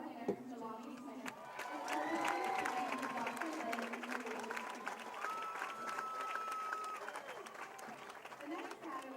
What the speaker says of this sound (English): Please give a round of applause for our winner, Jelani Smith.